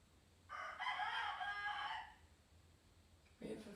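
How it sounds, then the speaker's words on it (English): A loud rooster crows outdoors in one long, drawn-out call, with a quieter sound starting near the end. "We have a very loud rooster outside."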